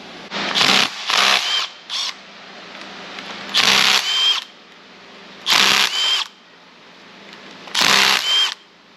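A power tool removes the bolts from a cam retainer plate on an LS engine in a 1992 Firebird, sounding as several short loud whirring bursts with quiet gaps between them.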